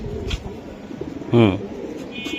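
A female Bezi pigeon gives a single short, deep coo close by, with people's voices and handling noise around it.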